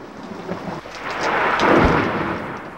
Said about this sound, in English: Thunder is a wake-up call.